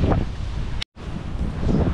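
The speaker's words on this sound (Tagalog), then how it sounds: "Hindi kaya sa hangin lang yun." Loud, close wind rushes over the microphone in a rough, steady roar, broken by a brief dropout to silence partway through.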